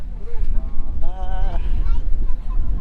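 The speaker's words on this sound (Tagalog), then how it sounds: "Lakas ng hangin." Strong wind buffeting the microphone on a hilltop climb in Bohol, loud rumbling gusts throughout, with voices of people talking over it.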